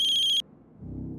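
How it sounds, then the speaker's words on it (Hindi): A landline telephone rings with a short electronic ringtone burst, then cuts off into quiet room noise. "सनी के राजकोट वाले घर की लैंडलाइन से फोन है।"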